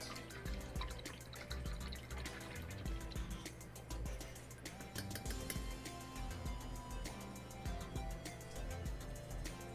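Paintbrush rinsed in a water cup during a sunflower painting session, soft dripping and swishing with repeated small splashes and taps, faint and close, no speech.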